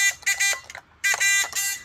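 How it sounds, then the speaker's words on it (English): Buzzer on a live stock market stream, two loud bursts of harsh, buzzing electronic tones with choppy gaps between, close and clear with no talk over it. "We got the buzzer going."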